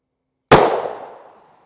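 A single 9mm pistol shot fired with 115-grain +P+ Underwood ammunition, one sharp loud crack with a fading tail, heard alone.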